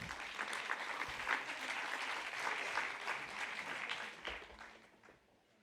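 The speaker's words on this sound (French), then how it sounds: "Voilà, vous pouvez les applaudir." An audience at a round-table event on disability and neuro-evolutive diseases claps steadily and densely, a sustained wash of applause that fades out toward the end, with no speech.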